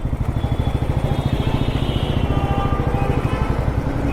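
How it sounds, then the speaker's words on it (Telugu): An overheated motorcycle engine chugs steadily up close with an even, pulsing rhythm, idling loudly amid a heavy traffic jam in Bangalore. "నా ఇంజన్ అయితే ఫుల్ హీట్లో ఉంది బైక్ది."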